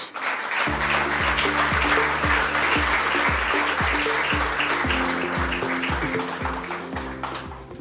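Generous audience applause at a tourism conference as a UN Tourism executive walks on stage, sustained crowd clapping heard throughout over a rhythmic musical beat.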